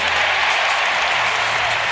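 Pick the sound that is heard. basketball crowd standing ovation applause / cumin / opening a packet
basketball crowd standing ovation applause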